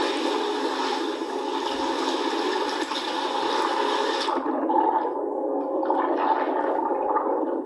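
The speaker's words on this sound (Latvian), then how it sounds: "Pirmo reizi mums izdevās fiksēt ēnkuru nolaišanu jūras gultnē" A ballast weight standing in for a ship's anchor is lowered onto the seabed, recorded underwater: a loud, continuous watery rushing and gurgling that abruptly thins out midway into a softer, bubbling wash.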